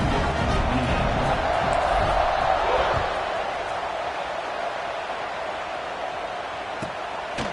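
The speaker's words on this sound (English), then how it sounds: "this crowd is buzzing after that last score" Stadium crowd noise from the NCAA Football 26 video game, TCU at UCLA, a loud buzzing roar that swells early and then settles into a steady background hum.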